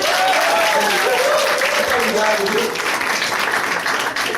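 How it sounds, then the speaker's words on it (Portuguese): A church congregation claps together in a steady, loud burst of applause, with a voice speaking briefly over the clapping at the start. "Palmas pra ele."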